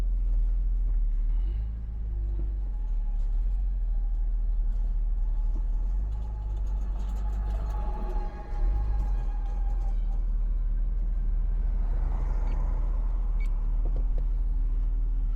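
A 1998 Opel Omega with a 2.5 V6 engine runs while reversing, giving a steady low rumble heard from inside the car with a faint hum, and the pitch rises and falls slightly as it moves.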